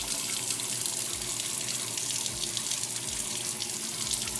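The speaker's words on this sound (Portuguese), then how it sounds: "E essa torneira também comprei na mesma loja" Water runs steadily from a bathroom sink faucet, a constant close gushing splash into the basin that fills the whole stretch with no talking.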